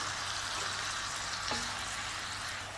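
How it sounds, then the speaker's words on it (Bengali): Small shrimp fried with spices in oil in a pan for a red amaranth greens dish: a steady soft sizzle and hiss throughout, with one brief faint clink midway. "আর ছোটো চিংড়িগুলোকেও আমি মশলার সাথে একটু কষিয়ে নেব।"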